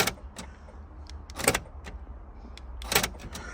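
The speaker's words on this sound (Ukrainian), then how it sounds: "Замок клацає." Sharp mechanical clicks from an Opel Zafira B's faulty door locks, a couple of louder double snaps among softer ticks against a quiet background.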